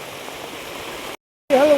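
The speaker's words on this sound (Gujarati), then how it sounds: "નદી આવી ગઈ. આવડું આખું ભરાઈ ગયું છે." Rainwater rushes across a flooded groundnut field in Karmeghda village as a steady broadband flowing hiss. It breaks off for a short silent gap, then returns with a voice over it.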